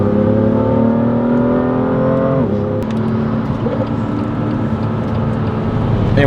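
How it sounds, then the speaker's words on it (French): A BMW Z4 M overtakes on the Nürburgring at sunset, its loud, steady engine drone dropping sharply in pitch as it passes close by, then settling into a continuous roar. "on se fait doubler par un Z4 M collé au sol"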